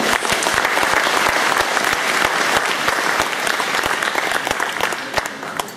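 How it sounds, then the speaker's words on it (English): Enthusiastic audience applause after a cultural performance at a community event hall, a dense, close crowd clapping throughout with individual sharp claps standing out, easing slightly toward the end. "Would you please give them another big round of applause?"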